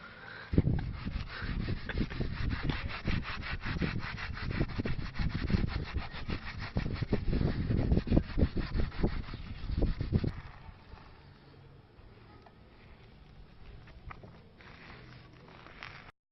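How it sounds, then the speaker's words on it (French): Rhythmic scrubbing of a car bumper being cleaned with Coca-Cola, steady and close-up for about ten seconds, then fading to quieter background. "cette personne nettoie son pare-choc avec du Coca-Cola"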